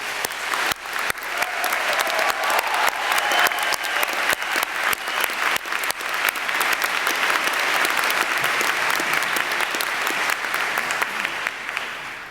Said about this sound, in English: Let's hear a round of applause for Ken Keller